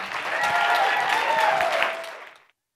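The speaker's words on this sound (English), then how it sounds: "Please give them a warm round of applause." An audience at a longevity investment summit and demo day applauds the founders with warm, sustained clapping that carries at full strength before tapering away.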